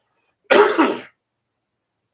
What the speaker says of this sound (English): That cough sounded bad.